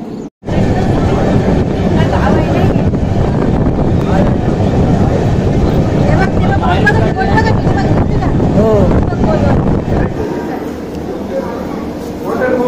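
Passenger train travelling on a long-distance Indian journey from Mumbai to Nagercoil, with a steady loud rumble and buffeting wind noise throughout and faint voices in the background.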